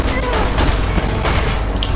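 Rapid bursts of gunfire in the video game Resident Evil 6, loud and close, with repeated shots and booms layered over game music and effects.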